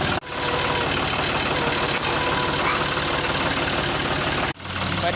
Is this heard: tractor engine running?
yes